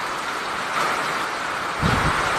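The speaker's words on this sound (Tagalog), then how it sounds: "Ang lakas ng ulan. Tsaka hangin. Ang lakas. Saka may kasama pang kulog." Heavy rain pouring with gusting wind during a storm, a dense steady roar that swells briefly, with a low thunder rumble rising near the end.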